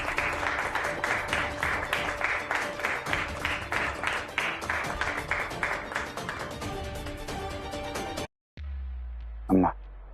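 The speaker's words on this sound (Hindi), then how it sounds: "तालियां तालियां तालियां।" A crowd claps in rhythmic bursts over a voice speaking, fading out before a brief gap and a short tone at the end.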